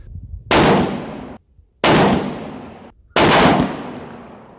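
Three loud, sharp gunshots from a 6.5 Creedmoor RPR rifle with a 24-inch Krieger barrel, fired at a range with pauses of about a second between them, each with a long ringing decay.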